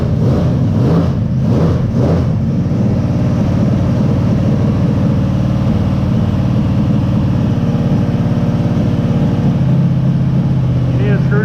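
A Chevy 283 small-block V8 in a 1974 Chevy Nova runs loud and steady close by, a constant rumbling drone with a few early surges, while people talk near the car.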